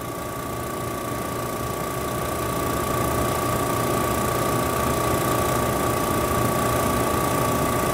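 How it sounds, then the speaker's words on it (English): Vacuum pump of a TurboTrace parallel SPE laboratory extraction system running, a steady close mechanical hum and buzz with a constant whine, rising slightly in level at the start and then holding even, with no talk. "the sample valves open, the vacuum pump kicks on,"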